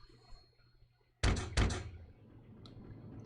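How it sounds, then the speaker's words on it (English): Two heavy knocks land on a door in The Great Ace Attorney Chronicles on PS5, close together and loud, followed by quiet room tone. "Knock, knock."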